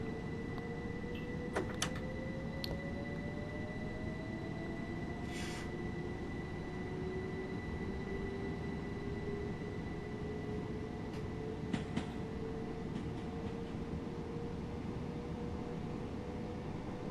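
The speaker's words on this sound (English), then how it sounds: "Doors are interlocked into forward, and we are away." Train Sim World 5 train pulling away from Hampden Park on the Brighton to Hastings route, a steady low rolling rumble with a rising motor whine and occasional faint clicks, with no talk.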